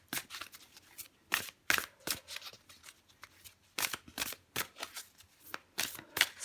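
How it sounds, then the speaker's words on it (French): Tarot cards being shuffled by hand, a quiet close rhythmic riffling and flapping that repeats in bursts over several seconds, with no voice. "je prends une dernière carte pour vous les scorpions"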